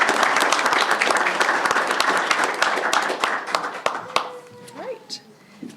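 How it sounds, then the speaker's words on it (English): Applause from an audience at a school board meeting honoring nurses, a dense burst of clapping that fades out over several seconds as a voice begins speaking. "if we can give the nurses a round of applause as well"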